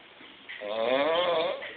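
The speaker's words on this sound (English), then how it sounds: "Cause this motherfucker right here snoring." A roommate snoring, one long, loud rasping inhale close by that swells after a brief quieter start, with no talk over it.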